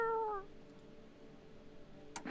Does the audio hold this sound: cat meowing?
yes